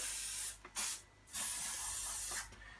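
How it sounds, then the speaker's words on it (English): Several short hissing blasts from an aerosol can of silicone spray onto stroller joints, close by, separated by brief pauses, the middle burst the longest. "Give a nice spray, allow it to work inside."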